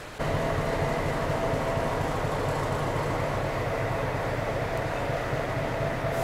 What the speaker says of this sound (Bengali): এই হচ্ছে আমাদের ট্রেন, এই দেখো